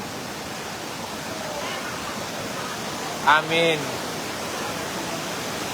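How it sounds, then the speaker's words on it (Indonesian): Fast-flowing flood water from a river swollen with seawater rushes steadily during flooding in Subulussalam, Aceh, as a loud continuous roar, with a brief voice cutting in midway. "arus sungai di sini sangat deras banget"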